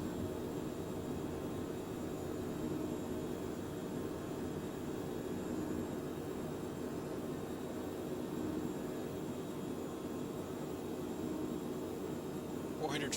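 Jet aircraft climbing after takeoff in a flight simulator game, a steady broadband engine roar and airflow hiss holding constant throughout, with a faint voice talking.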